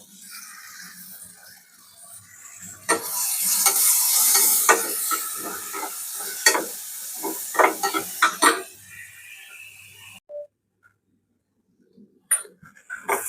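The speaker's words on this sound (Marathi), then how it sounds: "थोडंसं मीठ टाकून कांदा लसूण फ्राय करून घेऊया." Onion and garlic frying in oil with a little salt, a bright sizzle rising after a quiet start, with rapid spatula scrapes and clinks against the pan, then cutting off near the end.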